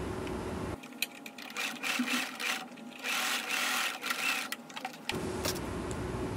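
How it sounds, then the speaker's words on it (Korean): A sewing machine stitches the facing of a cropped jacket along the marked shoulder line, running in close, uneven bursts of rapid needle chatter with short pauses, with quieter room tone before and after. "안단은 어깨선에 표시된 부분을 박음질을 합니다."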